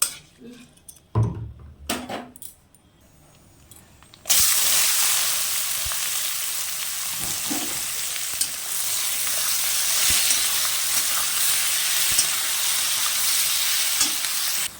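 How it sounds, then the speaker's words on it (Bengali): Onions, with cardamom and bay leaf, fry in a pressure cooker on a gas stove; after a few clatters of utensils and some brief sounds, a loud, steady sizzle starts and continues with occasional faint stirring knocks. "পেঁয়াজটা আমার ভাজা হয়ে গেছে"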